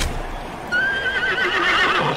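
A person's voice imitates a warhorse neighing, a loud, close, wavering whinny rising and trembling for over a second, set against a steady background hiss.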